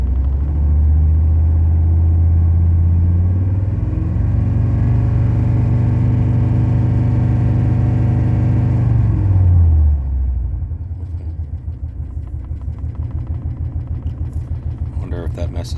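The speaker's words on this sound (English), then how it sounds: "Now I'm going to start it up again and watch what happens when I hit the gas." A 1999 Ford F250 V10 engine rumbles loudly up close, rising through a sustained rev before dropping back to a lumpy, pulsing idle.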